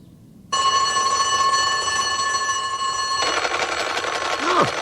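A telephone rings with a steady electronic bell tone in a Fireman Sam cartoon, loud and continuous after a brief quiet start, with background music rising toward the end.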